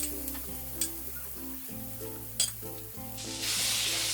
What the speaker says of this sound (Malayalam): വലിയൊരു പാൻ അടുപ്പത്ത് വെച്ച് ചൂടാകുമ്പോഴേക്ക് അതിലേക്ക് 3 ടേബിൾ സ്പൂൺ ബട്ടർ ഇട്ട് കൊടുക്കാം